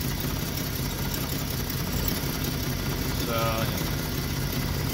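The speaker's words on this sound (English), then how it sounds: "seems like it's still misfiring" A worn Jeep engine with new spark plugs and a new distributor idles steadily and close by, its low rumble stumbling with a faint misfire, while a person speaks briefly over it.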